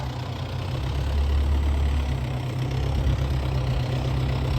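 MTZ tractor with a sprayer driving to a field, a steady low diesel engine rumble with a droning hum that stays loud and continuous, with no talking.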